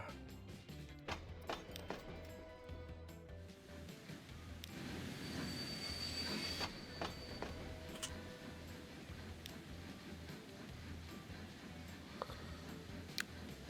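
Steam-era trains from the 1840s in the game Transport Fever 2 rumble steadily along the rails, with wheel squeal, rhythmic clicking of rail joints and a continuous mid-level mechanical drone.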